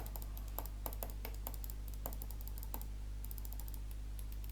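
Sharp, sparse clicks of a gaming mouse tapping irregularly over a steady low electrical hum, close by.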